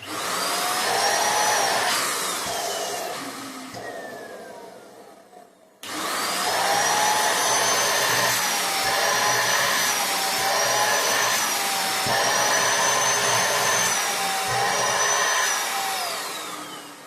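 A handheld vacuum cleaner runs loud and close with a steady high whine, briefly dropping in pitch and cutting out before surging back at full power for the rest, with no voices.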